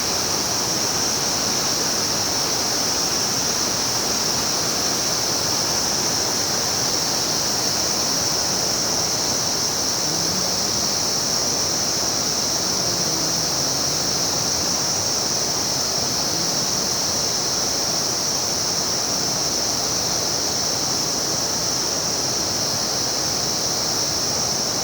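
A flowing river rushes in a loud, unbroken wash of water noise that holds steady throughout, with no voices or other sounds.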